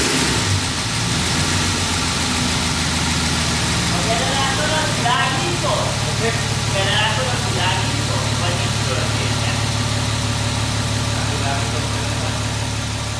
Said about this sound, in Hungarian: végre egy pozitívum, hogy jár a motor